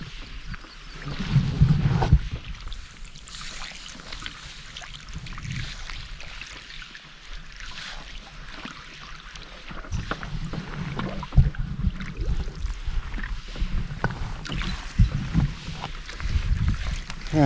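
Canoe paddling on a small lake in Algonquin Park, with soft water swishes and splashes from the strokes over steady broadband wind and rustle, close and moderately loud, with no talk.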